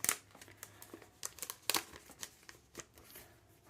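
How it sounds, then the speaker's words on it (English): A greeting card and its envelope slid into a crinkly plastic sleeve, with soft, close-up rustling and a few sharper crinkles, quiet and without talk. "Slide the envelope in, slide the card in"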